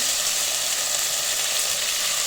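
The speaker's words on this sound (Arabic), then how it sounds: "هنا حلة على النار، نحط فيها معلقة سمنة، نضيف الطماطم، الفلفل، بطاطس" Tomatoes, peppers, potatoes, garlic, carrots and onions fry in a spoonful of ghee in a pot for lentil soup, giving a dense, even hiss that stays loud and close throughout, with no talking.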